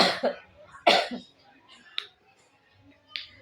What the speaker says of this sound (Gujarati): આ ઉધરસ છે ને એ નથી સારી થતી